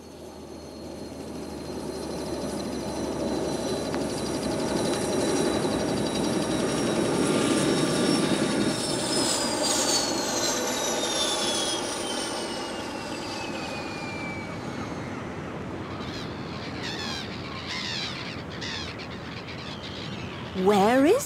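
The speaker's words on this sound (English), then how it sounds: "Kate, Sam and Josie arrived at the oil rig by helicopter." A helicopter's steady drone hums throughout at an oil rig, with a whining engine tone that slowly falls in pitch as it fades.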